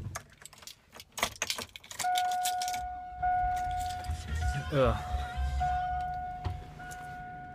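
Keys jangle in several bright, close bursts as someone gets into a car, followed by a steady electronic chime, a short mechanical whir and low engine rumble; a brief groan is voiced.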